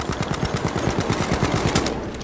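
Rapid automatic gunfire in the Battlefield video game, a dense burst of repeated shots rattling steadily for the full stretch, loud and close.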